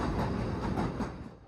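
Leighton Buzzard narrow gauge railway train rolls past houses, a loud, close rumble with faint rhythmic wheel clatter that holds steady, then eases off near the end.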